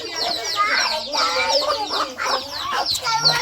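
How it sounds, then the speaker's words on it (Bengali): A village hen with her chicks clucks repeatedly and close by, with rapid bursts of clucking and high chick peeps, along with faint talking in the background. "বাচ্চা সহ মুরগি আসাতে অন্য মুরগি সব গেছে গা।"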